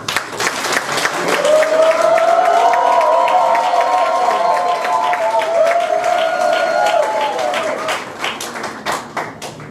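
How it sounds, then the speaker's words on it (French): Wedding guests at an official civil ceremony cheer and applaud together in a loud, sustained burst of clapping and joyful shouts that swells for several seconds, then thins out toward the end. "Vous devez le manifester par des cris de joie,"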